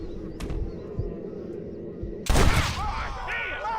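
Gunshots in Red Dead Redemption: a few sharp reports early on, then a loud burst of gunfire near the end amid game sounds and bird calls.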